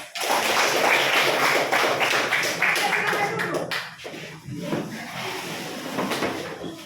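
A classroom full of students applauds, a dense loud burst of many hands clapping that gradually thins out and fades, with scattered claps and murmurs continuing toward the end.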